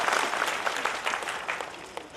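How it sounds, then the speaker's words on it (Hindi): An audience at a Brahmakumaris diabetes health session in Rajkot claps together in a steady, moderately loud round. The patter is crisp and fairly even, then eases slightly toward the end. "ताली बजाओ भाई, ताली बजाओ"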